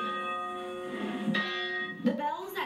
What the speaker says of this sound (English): The bells at Jensen Beach Christian Church have been ringing for more than 100 years